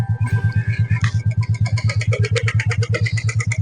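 A car pulls up on a cold, snowy mountain road near a bridge, its engine chugging in a steady rapid throb close by, with a few faint background sounds over it.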